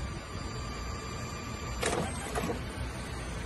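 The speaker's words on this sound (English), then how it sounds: "So now I'm gonna do a test print to check that it is printing properly." An RX1 photo printer whirs through a 2x6 test print, giving a quiet mechanical hum with two short feed bursts near the end.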